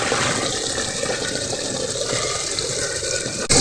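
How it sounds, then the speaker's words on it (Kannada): A waterfall in the rainy season gives off a steady, dense rush of flowing water. The sound is close and constant for the whole stretch, with no voices. "ಜಲಪಾತ"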